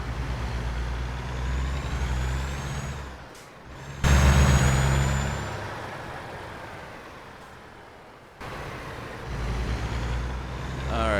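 A Peterbilt 387 truck in American Truck Simulator drives with a steady low engine drone. Two loud air brake hisses cut in, one sharp burst near the middle, then the engine rumbles on again.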